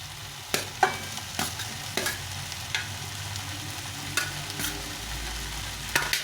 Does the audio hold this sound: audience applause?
no